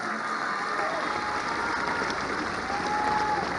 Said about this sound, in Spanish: Un aplauso a los migrantes de Michoacán.